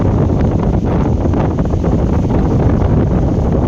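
Strong cold wind buffets the microphone outdoors at a rural Thai village during preparations for a local festival, a loud, steady roar of rushing air throughout with no speech.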